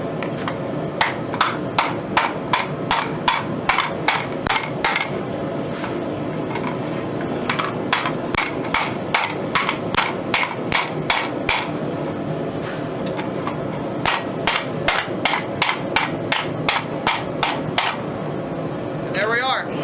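A hammer strikes hot steel from a saw blade on an anvil while a bowl is forged, sharp ringing blows coming in steady rapid runs with short pauses between, over a low background hum.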